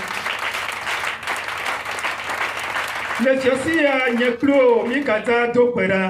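Church congregation at a Friday evening service applauding and cheering loudly for Jesus, steady clapping that gives way to voices singing and shouting in praise.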